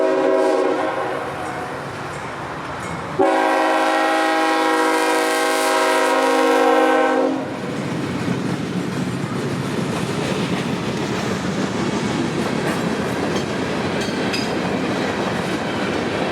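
Brooksville local freight train with 90s-era locomotives pulling hoppers near Tampa: a loud multi-note horn blast of about four seconds, then the heavy rumble and clatter of the passing train, near and steady.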